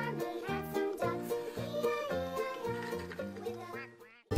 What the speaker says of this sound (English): And on his farm he had some ducks